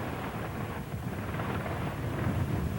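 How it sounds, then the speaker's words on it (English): Rain pours down during a stage of the 1996 Vuelta a España road cycling race, a dense, steady hiss that holds at an even level throughout without voices. "and the rain is coming down."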